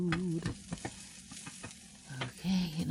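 Shrimp and sausage sizzle and fry in a pan for shrimp and grits, with steady crackling, scraping stirs and clattering utensil hits throughout, no talking.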